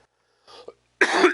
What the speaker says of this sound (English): Sorry, bad cough.